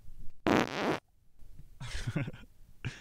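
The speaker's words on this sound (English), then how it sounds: "They're forced to inhale farts in the incubator." A fart sound effect plays as a loud sputtering burst, followed by a few quieter, ragged blurts.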